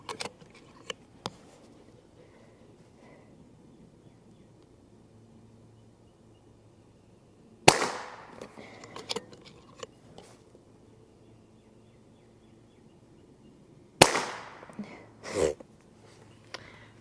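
A .22 caliber FX DRS PCP air rifle fires two sharp, sudden cracks several seconds apart, each followed by faint clattering, set against a quiet outdoor background with small incidental clicks.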